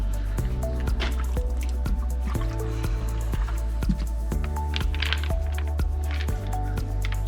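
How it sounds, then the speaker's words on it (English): A small waterfall trickles into a newly built koi pond, close water splashing and dripping in irregular bursts, a steady low hum running underneath. "So you get the makings of a pretty waterfall going."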